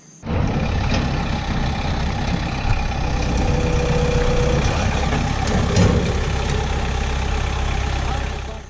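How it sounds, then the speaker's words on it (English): A tractor's heavy diesel engine runs steadily at close range on a property where pine trees are being cleared, a loud continuous low rumble holding throughout after a quiet start. "I can probably push that one over with the tractor."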